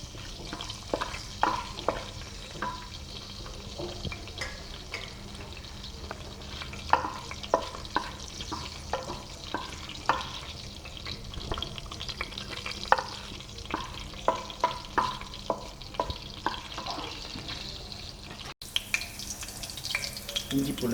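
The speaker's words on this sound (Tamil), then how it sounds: "மாவங்க, கிராம்பு, ஏலக்காய், இது எல்லாத்தையும் நீங்கள் போட்டு கொஞ்சம் நேரம் வதக்கி விடுங்க." Whole cloves and cardamom sauté in hot oil in a pan for a Malaysian mutton masala, a steady close sizzle broken by repeated scraping stirs, with faint background noise.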